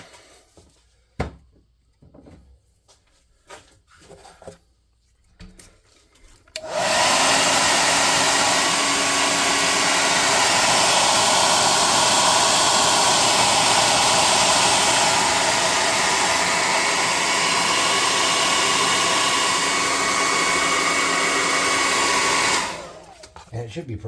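A hair dryer blows close and loud in a steady roar for about sixteen seconds while drying a painted goblin craft banner, switching on after a stretch of quiet handling noises and cutting off near the end.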